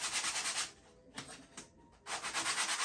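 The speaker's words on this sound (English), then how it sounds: "Just a rasp and sandpaper and draw knife and a scraper." A hand rasp or sandpaper shapes a wooden wedge, giving close, quiet scratchy strokes in two bursts separated by a brief softer pause with a couple of small knocks.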